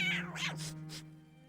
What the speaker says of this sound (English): The cat hissed a few times,